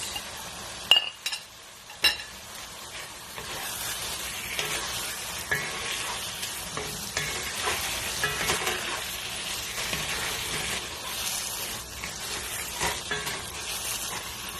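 Potatoes and green peas sizzle steadily in a pan while a spoon stirs and scrapes, with a few metallic clinks near the start and no talk.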